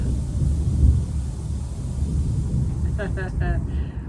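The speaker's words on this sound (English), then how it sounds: "We got a thunderstorm rolling in." Low, continuous rumble of thunder from an approaching thunderstorm, with wind-like noise on the microphone; a brief voice-like tone appears near the end.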